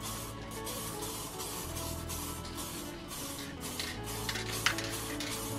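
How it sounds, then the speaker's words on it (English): An aerosol can sprays acrylic lacquer onto small pond features to seal and waterproof them, giving a steady continuous hiss with slight fluctuations over a low background hum, no talking. "So we need to just seal them now with an acrylic lacquer. Okay? Just like this. Give them a nice coat and make them waterproof."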